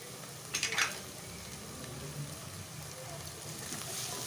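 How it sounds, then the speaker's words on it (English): Jeera powder and sambar powder fry in a pan for a black chana curry, giving a steady sizzle, with a brief burst of stirring clatter near the start. "Let it fry for a few minutes."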